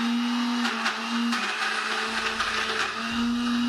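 Close, loud blender grinding soaked urad dal with ice for medu vada batter, a steady high motor whine that dips in pitch briefly midway as the thick batter loads it.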